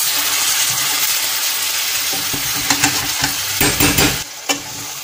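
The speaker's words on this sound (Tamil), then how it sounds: "நல்லா மிக்ஸ் பண்ணி விட்டுக்கோங்க." Chicken and yogurt being stirred in a hot pan, a close, wet sizzling and scraping with several louder clacks of the spoon against the pan toward the end, no voices.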